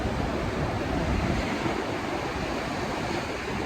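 Ocean surf breaking on a beach, where spearfishers are swimming past the breakers near a rip current, roars in a continuous, loud wash with wind buffeting the microphone.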